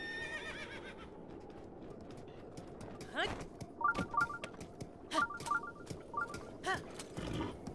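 A horse whinnies, followed by quick tonal beeps and thudding hoof-like clops in an irregular rhythm against a quiet background, in Hyrule Field in the video game The Legend of Zelda: Breath of the Wild.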